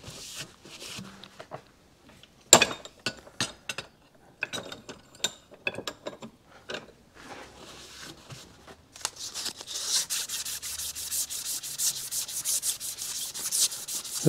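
Fine 1200 grit sandpaper rubbing on a part of a Yamaha YJ2 Campus 60 scooter during repair: at first scattered short scratchy strokes and handling clicks, then a steady close run of rapid rhythmic sanding strokes.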